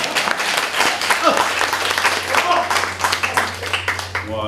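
Applause from a live audience at a stand-up comedy exchange event, dense clapping filling the whole stretch at steady loudness, with a steady low hum underneath.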